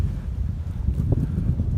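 Wind buffets the microphone in a low, continuous rumble, steady throughout with no voices.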